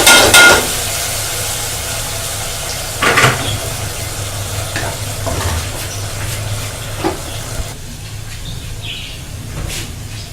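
Cumin and haleem go into a hot pot, giving a loud, continuous sizzle with stirring scrapes and occasional knocks of a spoon, with no one talking.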